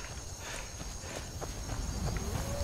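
Horse hooves clip-clopping in Skyrim, a steady walking rhythm of repeated hoof strikes, moderately close, over a constant ambient game background.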